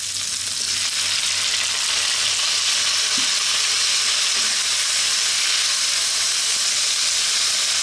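Onion and tomato sautéing in a hot pan for adobong kangkong, a continuous loud sizzle and hiss close by with a couple of faint stirring knocks, no talking.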